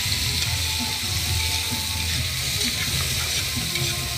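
Meat sizzling as it fries for pancit over an outdoor fire, a steady close hiss with occasional light scraping and clicks, no talk over it.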